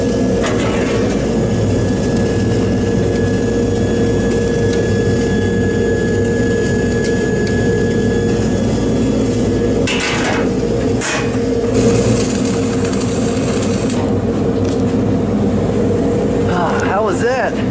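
Heavy-duty flux core dual shield welding at about 26 volts and 150 amps gives a steady, dense crackling buzz that runs continuously at close range, with brief breaks near the end.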